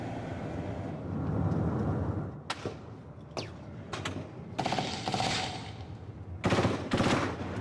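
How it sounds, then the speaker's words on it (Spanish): Bursts of gunfire strike a convoy travelling through a conflict zone in Cameroon's separatist northwest, with several sharp cracks and short volleys spread over a steady rumble of vehicles. "Nueva salva de disparos sobre el convoy."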